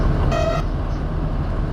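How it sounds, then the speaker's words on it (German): A train horn on a German branch line gives one short, loud tonal toot above the steady rumble of the moving train, with no talk over it. "Müssen wir dann gleich wieder hupen."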